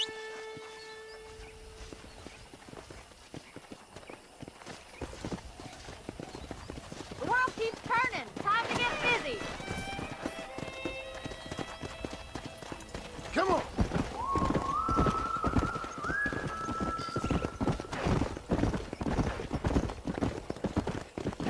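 Horse hooves clip-clop in a steady rhythm amid outdoor ambience in the video game Red Dead Redemption, with occasional whinnies and people talking over the top.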